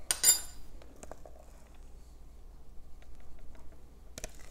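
Hummus being spooned from a bowl onto a plate, with a sharp utensil clink at the start, faint scraping and tapping, and another clink near the end in a quiet kitchen.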